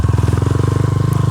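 Motorcycle bumping over a rough, rocky off-road stretch, its engine throbbing in a steady low pulse with clattering from the tires and frame, close and loud throughout.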